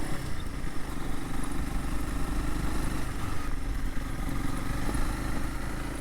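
A Honda CRF300L Rally dual sport motorcycle rides along Berry Mountain Road in West Virginia, its steady engine drone and road rumble continuous and loud throughout, with wind noise over the top.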